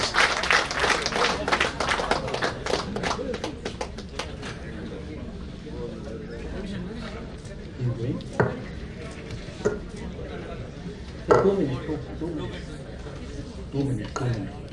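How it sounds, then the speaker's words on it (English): Audience at an award function honoring metro man E. Sreedharan breaks into loud, dense clapping that fades after a few seconds, followed by scattered quieter claps and noises. "we should have a big clap"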